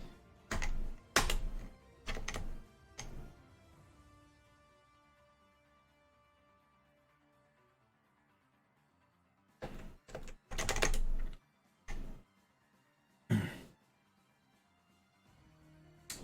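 Bursts of typing on a computer keyboard during coding work, heard as clusters of quick clicks at the start, a long quiet gap, then several more short volleys of keystrokes toward the end.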